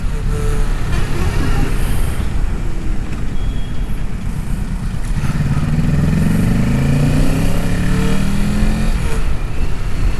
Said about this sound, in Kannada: ತುಂಬಾ ಬೈಕ್ಸ್ ಪಾಸ್ ಆಯಿತು